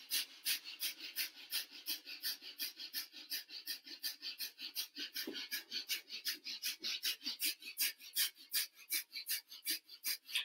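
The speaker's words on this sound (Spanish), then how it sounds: "Y comenzamos respiración de fuego." Rapid yoga breath of fire during a sadhana practice, sharp, rhythmic nasal exhalations pumping several times per second in an even stream, close and steady with no talking.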